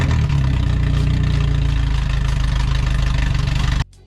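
A BMW car engine runs loud and close, a heavy, steady low-pitched rumble that holds throughout before stopping abruptly.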